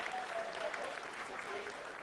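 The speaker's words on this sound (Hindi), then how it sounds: "आप तालियों के गड़गड़ाहट से सुन सकते हैं" Staff at ISRO mission control applaud during the Chandrayaan-3 lunar landing, a steady, rather distant rumble of clapping that runs beneath a person talking.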